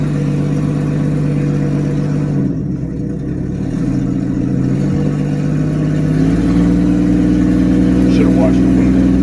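A car engine running on a newly fitted carburetor hums and shifts pitch as it drives, with a steady mid-low drone that dips briefly and then rises again, while people talk over it.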